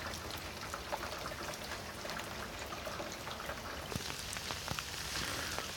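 Steady rain falls across a Southern California yard and driveway, a dense continuous hiss with scattered sharper drops pattering close by, no voices present.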